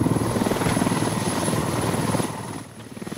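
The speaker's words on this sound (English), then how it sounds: "I'm still waiting for the helicopter to get slammed into the ground." A video game helicopter gives off a loud, steady rotor chop with a throbbing engine roar, dipping briefly near the end before the rhythmic beating returns.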